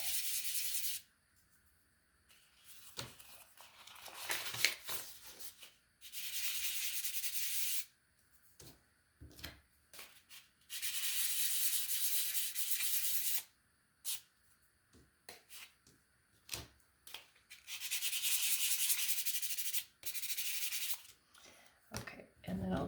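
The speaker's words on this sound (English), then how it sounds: "Give those a sand." Sandpaper rubbing on gray-painted pieces of a toy truck, in long steady scratchy strokes that repeat in bursts with short pauses between, close and fairly loud, with a few brief knocks in the gaps.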